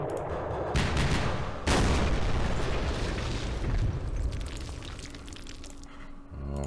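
Artillery guns firing in the Campaign Series Middle East war game, heavy booming blasts that start abruptly, with a second, louder round following, then rumbling decay and scattered crackling.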